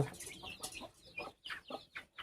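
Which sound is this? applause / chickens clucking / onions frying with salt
chickens clucking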